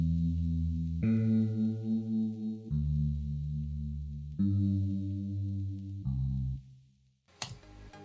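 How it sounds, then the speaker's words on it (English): Synthesized bass guitar from an FL Studio FLEX preset pack playing a few sustained low notes one after another, clean and isolated, ending with a short click. "The bass notes sounds like this."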